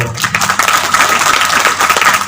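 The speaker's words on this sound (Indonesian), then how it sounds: "Tepuk tangan sekali-kali gitu loh bro" Listeners at an Islamic religious lecture clap together, a close, fairly loud burst of scattered hand claps that continues briefly and unevenly.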